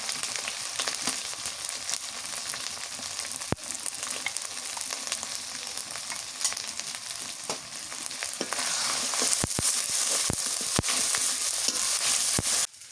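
Cumin paste and garlic paste fry for khichuri on a village clay stove, giving a steady dense sizzle throughout, with sharp crackles and pops that grow louder toward the end.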